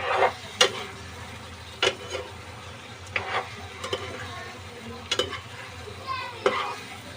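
Pomfret masala being stirred in a pan, a low sizzle under repeated scraping strokes and sharp clicks of a utensil against the metal, irregular and close, with no voices.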